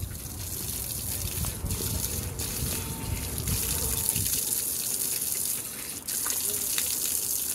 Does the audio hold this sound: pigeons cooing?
no